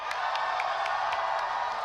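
A large crowd at a Fortnite esports grand finals roars and whoops continuously, with a dense wall of cheering and a few faint claps throughout.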